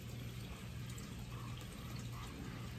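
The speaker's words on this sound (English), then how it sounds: "We're going to wash it first." Tap water runs steadily for a few seconds while a Munchkin Miracle 360 baby trainer cup is washed, a continuous close splashing flow.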